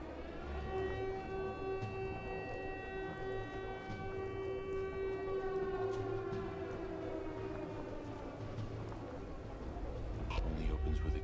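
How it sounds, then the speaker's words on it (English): A siren wails on long sustained tones, steady and fairly loud, with a rain-like hiss beneath and a rising rumble toward the end. "the timing could not have been worse for this siren to be going off right now"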